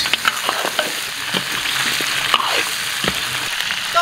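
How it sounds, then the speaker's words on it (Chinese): Lamb trotters stir-fried with soaked spices and numbing Sichuan peppercorns in an oiled wok give a steady close sizzle, broken by scraping stirs and clacks of the spatula. "炒香以后倒入羊蹄儿"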